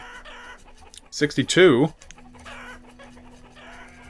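Chickens in the farming video game Banished let out a loud burst of rising and falling clucks and squawks for about a second, with quieter background clucking and a steady low tone around it, while a voice speaks briefly.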